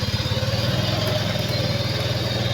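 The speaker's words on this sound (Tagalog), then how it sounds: "Ayan po, ang ganda pong motor." Motorcycle engine running nearby on a street, a steady low throbbing idle with a fast even pulse, loud and close, with no talk over it.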